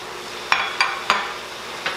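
Carrots dropping into cabbage in an Instant Pot, four separate sharp clatters spaced across two seconds, close and fairly crisp over a quiet background.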